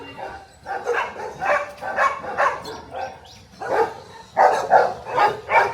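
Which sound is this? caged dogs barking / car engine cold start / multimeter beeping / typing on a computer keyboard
caged dogs barking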